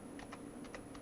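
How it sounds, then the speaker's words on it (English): Light tapping on a quiet scissor-switch computer keyboard, five soft keystrokes in an uneven rhythm over a low steady background hum. "My server keyboard is actually it's a scissor switch type keyboard."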